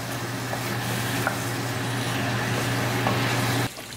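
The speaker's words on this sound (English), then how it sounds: "Cooking our tomato sauce with our tadka for 1 minute" Tomato sauce with tadka simmers and sizzles in a pan over medium gas, a loud, continuous frying crackle with a low steady hum beneath, ending abruptly near the close.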